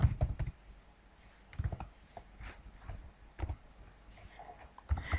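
Someone types code on a computer keyboard during a web programming lesson, producing close bursts of quick key clicks separated by short pauses, with no talking.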